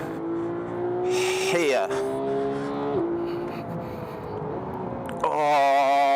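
A Porsche 911 GT3 with a seven-speed dual-clutch gearbox accelerates hard through a race track lap, its engine note climbing and dropping at several quick gearshifts, with someone talking over it.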